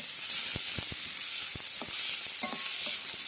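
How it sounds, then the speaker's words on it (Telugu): Chopped onions and green chillies hiss and crackle steadily after going into about two spoons of hot oil, with a few sharper pops and the scrape of stirring breaking through the continuous sizzle. "ఆయిల్ వేడిగానే ఆనియన్స్ పచ్చిమిర్చి వేసేయండి. వేసేసి బాగా కలపండి."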